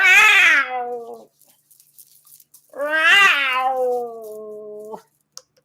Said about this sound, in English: I hit a cat.